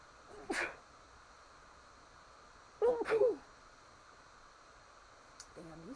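Two sharp sneezes burst out, the second a quick double, with a smaller third at the end, close to the microphone over faint room hiss.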